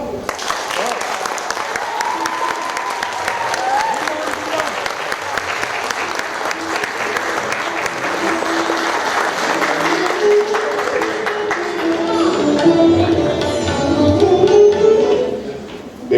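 Sustained applause from a theatre audience after a mono acting festival performance, a dense steady wash of clapping that carries on for a long stretch, with a voice speaking over it near the end.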